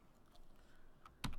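A brief burst of computer keyboard typing while entering survey bearings for a site plan, a quick cluster of near, crisp key clicks at the end of an otherwise quiet moment.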